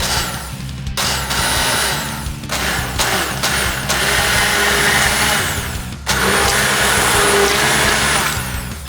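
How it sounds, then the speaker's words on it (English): Immersion blender whirring steadily at close range, loud and continuous, with brief pauses and changes in pitch as it starts and stops. "Put this in, and now you have an immersion mixer."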